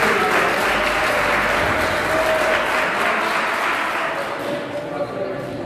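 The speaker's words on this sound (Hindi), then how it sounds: "अब तालियां होंगी।" Sustained audience applause at a naat poetry gathering in a college hall in Faisalabad as a poet is welcomed, steady dense clapping fading slightly toward the end, with a voice faintly underneath.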